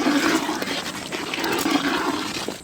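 A pot of curry boils with continuous bubbling, a rushing boil, steady and close, with a watery roar that holds throughout.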